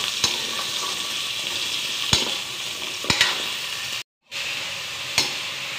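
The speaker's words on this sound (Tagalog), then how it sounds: "Ipiprito muna natin ang lahat para masaya." Steady sizzling of potatoes and carrots frying in hot oil, a constant hiss with occasional clinks of a utensil and a brief drop to silence midway.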